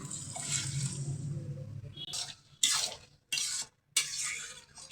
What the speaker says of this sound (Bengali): ওই চুলার জল, ওই বুটির জল এই ঢেলে দিলাম